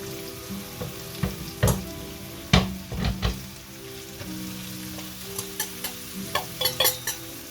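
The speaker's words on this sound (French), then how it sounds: "Une fois que mon beurre est bien chaud, j'y rajoute mes" Leeks drop into hot butter in a frying pan, giving a soft, continuous sizzle broken by irregular bursts of scraping and clattering from stirring. The sound is close and fairly quiet, with no talking.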